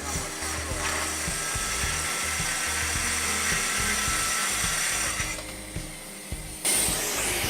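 A Festool TS track saw rips through MDF with its dust hose pulled off, a steady loud whirring drone that holds for several seconds, then shifts pitch and stops near the end.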